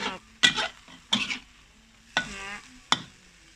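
Silkworm pupae stir-roasted in a pan over low heat, seasoned with salt and MSG: a few distinct scraping stirs with soft frying sizzle between them, close and moderately loud with no talk.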